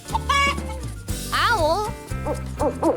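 A chicken clucks in a few short, bright bursts, close and clear, with a sustained tonal hum running underneath.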